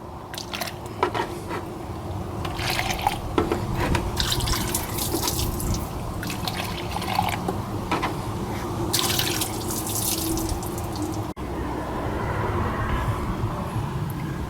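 Water splashing and dripping as a cup is rinsed out during a water pump replacement on a Ford V8, a steady close wet wash with squishy drips running throughout, no talking.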